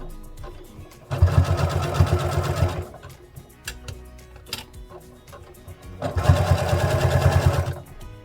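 A sewing machine stitches the fabric of a sewn bear in two steady, rapid runs of a few seconds each, separated by a quieter pause for pivoting the work, with softer handling clicks between.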